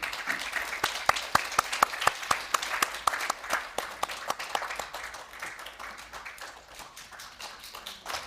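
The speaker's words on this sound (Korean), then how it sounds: "큰 박수 다시 부탁드립니다" An audience at a seminar on eco-friendly building materials at the FKI Tower claps, sharp hand claps ringing out clearly at first, then blending into a thinner, fading round of applause.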